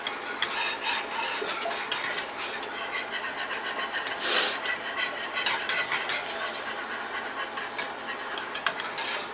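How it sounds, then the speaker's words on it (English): Chocolate candy mixture with a teaspoon of almond extract being whisked in a bowl, giving a steady close rasping, scraping rhythm of fast strokes that runs for several seconds with no talk. "teaspoon of almond extract. Kind of give that a little whisk."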